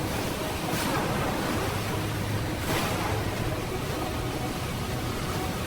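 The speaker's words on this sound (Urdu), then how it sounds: "اچانک اونچی اونچی لہریں اٹھنے لگیں۔" High ocean waves surging at sea in a sound effect, a steady broadband wash of surf and wind with two distinct crashing swells breaking loudly, no voices present.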